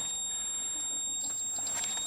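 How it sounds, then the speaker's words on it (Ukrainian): A thin, high-pitched warning buzzer in a VW T3 dashboard sounds steadily and slightly muffled, taped over, with faint rustling and clicks underneath. "Пищалку я заклеїв, щоб вона не так громко пищала"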